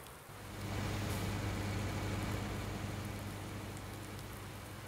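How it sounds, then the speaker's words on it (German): Rain in the Farming Simulator 19 video game hisses steadily over a low engine hum, rising after a moment and holding constant, with no voices. "Nur wegen dem blöden Regen."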